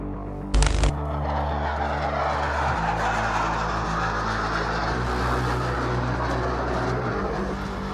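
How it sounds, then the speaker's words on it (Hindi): Military aircraft fly past during an Indian Air Force Day air show at a Chandigarh air base, a loud continuous jet roar filling the clip after a brief sharp burst near the start. "80 मिलिट्री एयरक्राफ्ट एंड हेलीकॉप्टर्स आज इस एयरफोर्स डे पर फ्लाई पास्ट करते हुए नजर आएंगे"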